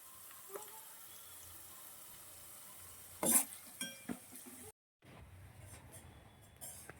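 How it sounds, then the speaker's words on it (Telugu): Onions frying in a pan for green chicken curry give a faint, steady sizzle, with a few louder spoon or utensil clatters near the middle and a brief gap near the end. "ఉల్లిపాయలు అయితే బాగా ఫ్రై అయిపోవాలండి."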